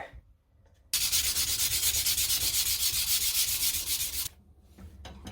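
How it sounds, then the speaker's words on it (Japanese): A rusty kitchen knife is rubbed with waterproof sandpaper in a fast, even back-and-forth scrubbing rhythm that runs loud for about three seconds, framed by quieter moments before and after. "耐水のペーパーを用意しまして、こちらでまず磨いていきたいなというふうに思ってます。"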